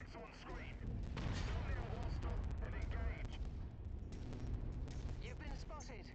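Artillery bombardment in the MechWarrior 5 mech combat game, a dense continuous roar of booming impacts and rumbling blasts, loud and sustained, with voices talking over it.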